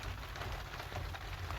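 Spring rain falling in a steady, faint hiss with soft patter on surfaces, continuous and fairly distant throughout.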